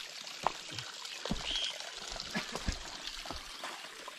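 Cold water runs from a village spring in Garhwal, a faint, steady trickle and pour with small splashy ticks scattered through it, heard alone with no voices.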